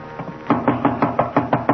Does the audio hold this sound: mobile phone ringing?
no